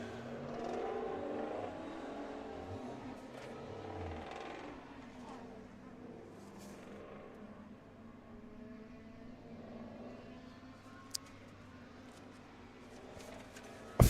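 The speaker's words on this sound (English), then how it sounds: "We'll move over as we've got a bunch of GT cars coming through." GT race cars on an autocross course at Laguna Seca, engines droning and revving at a distance, with a commentator talking over them and a brief click near the end.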